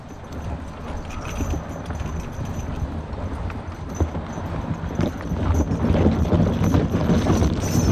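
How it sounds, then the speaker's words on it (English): A draft mule working single drags a tire across gravel, making a steady, dense gritty scraping and crunching mixed with hoof clops that grows louder over the last few seconds. "when you drag a tire across some of that gravel, like what she just did"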